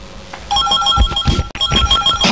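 A telephone rings with a repeating electronic ringtone, two clear bursts of bright tonal ringing with a short gap between, loud and close with no talking.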